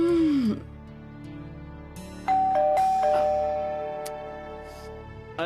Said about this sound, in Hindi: दरवाजे की डोरबेल बज रही है।